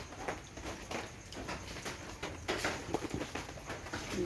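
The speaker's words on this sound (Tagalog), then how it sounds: "Maulan. Maulan guys." Steady rain falls outdoors in rainy weather, a dense even patter with scattered louder drops and splashes, moderately close and continuous with no voices.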